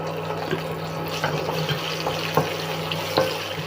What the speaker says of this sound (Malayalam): നമുക്കിനി അതിലേക്ക് നെയ്യ് ഒഴിച്ചു കൊടുക്കാം ഇനി നമുക്ക് തേങ്ങ ഇട്ട് കൊടുക്കാം